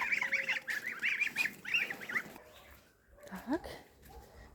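Geese honk repeatedly in a loud burst near the start, then a few scattered honks and calls follow more faintly, with some background movement.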